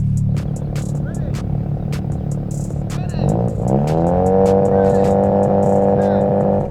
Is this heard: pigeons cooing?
no